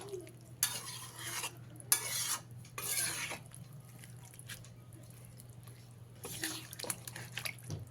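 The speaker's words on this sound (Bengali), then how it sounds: "এবারে এর মধ্যে পরিমাণ মতন জল দিয়ে দিতে হবে জলটা দিয়ে সব কিছুকে ভালো করে মিশিয়ে দেবো" Water goes into a pan of vegetarian jackfruit curry and a spoon stirs it round, bursts of splashing and scraping stirs coming and going over a steady low hum, close and moderately loud with quieter pauses between.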